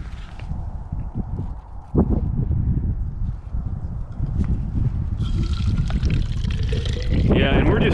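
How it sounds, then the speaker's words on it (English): Groundwater sample poured from a bailer into a 500 ml poly bottle outdoors at a monitoring well, a steady close trickle and splash running for several seconds with a bump partway through, while people talk nearby. "a lot of times people just pour it directly off the top of the baler"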